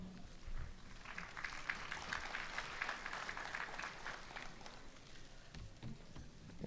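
Sustained audience applause at a Republic Day mushaira and kavi sammelan in Dubai, a steady wash of many hands clapping that holds at an even level throughout.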